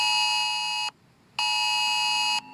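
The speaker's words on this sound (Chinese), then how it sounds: "这次演练同样也纳入了模拟细胞简讯，而警报声响起" Emergency cell broadcast alert tone during a city evacuation drill: two long, loud, steady electronic tones with a brief silent gap between them, heard alone.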